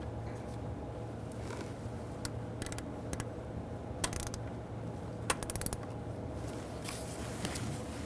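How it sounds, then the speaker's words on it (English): A ratchet with a 10mm socket tightens bolts on the EGR valve of a Ford Taurus 3.0L V6, giving faint, quick clicking bursts over a low steady hum. "we're going to be torquing these to 53 inch-pounds with a 10mm socket"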